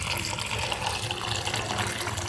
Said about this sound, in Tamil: நான் இந்த சாதத்தில் ஃபுல்லாக தண்ணி விட்டுட போகிறேன்.